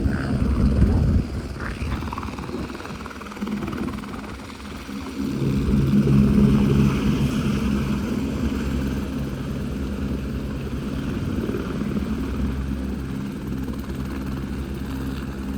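Two helicopters fly close by near Kedarnath during rain, a steady loud rotor drone swelling midway and holding without break.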